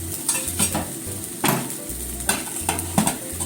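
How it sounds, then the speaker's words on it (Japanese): A Korean chive pancake (chijimi) sizzles steadily in a pan over low heat, while a utensil scrapes and taps against the pan in short, irregular strokes close by. "じゃあ、あと弱火で2分ほど焼きますね。"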